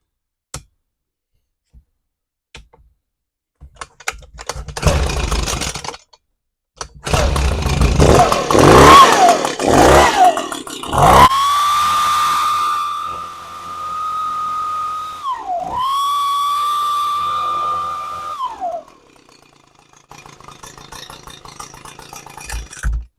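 An Echo PB-250 two-stroke leaf blower with a suspected fuel leak is pull-started, sputters, then runs loud with a high whining drone that dips and recovers unevenly before tailing off to a rough idle.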